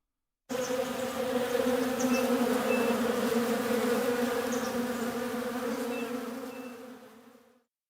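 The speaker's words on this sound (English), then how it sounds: "Those are bees." A swarm of bees drones in a dense, steady buzz, loud and close throughout, then fades out at the end.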